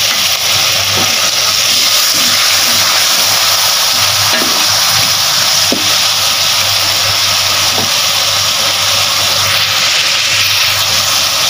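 Spice paste with softened onion sizzles in a pan after a splash of water, cooking for a dried chepa fish bhuna; a steady, loud hiss runs throughout with a few faint scraping taps.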